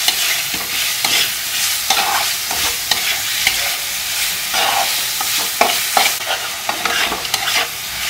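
Potatoes are stir-fried with spice paste in a pan for a katla fish curry, with loud close sizzling under a rhythmic run of spatula scrapes and taps, and no talk.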